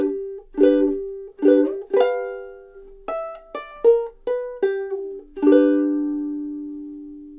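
A blues phrase in G on ukulele, with about a dozen picked notes and double stops in a lively rhythm that climb and then settle onto a sustained final chord, played close and clean with no talking.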